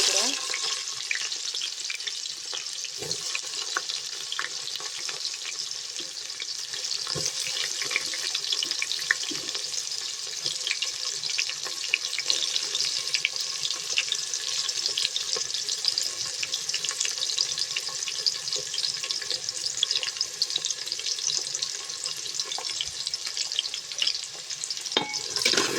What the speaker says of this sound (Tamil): ஆனியன் கொஞ্சம் ஃப்ரை ஆகட்டும்